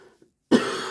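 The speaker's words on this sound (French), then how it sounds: "Nez qui coule, je tousse," A sick woman with a runny nose and chills gives a sudden harsh cough up close, breaking a short silence and ringing on for about half a second.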